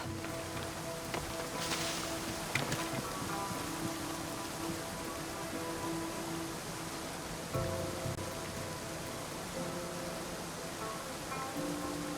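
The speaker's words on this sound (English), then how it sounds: "This is the waterfall." A waterfall in the Assassin's Creed Odyssey video game rushes in a steady, dense, hissing roar that stays even and fairly loud throughout, with faint thuds underneath.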